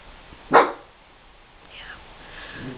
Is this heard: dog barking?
yes